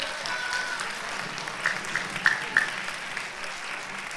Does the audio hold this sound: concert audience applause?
yes